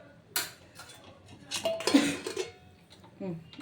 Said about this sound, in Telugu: ఇప్పుడు మూత పెట్టేద్దాం